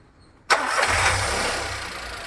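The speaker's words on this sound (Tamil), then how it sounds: "வண்டியோட அந்த என்ஜின் ஸ்டார்ட் பண்ணும்போது என்ஜின் ஏற்படுற அந்த வைப்ரேஷன்ஸ் வந்து அலோவ்டு லிமிட் தான், ஓகே தான்." A used car's engine cranks and catches with a sudden loud start, then settles into a steady, close idle rumble that continues to the end.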